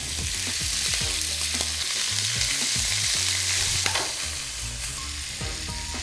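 Squid sautés quickly in hot olive oil, giving a loud, continuous sizzle with stirring, while low music plays faintly underneath.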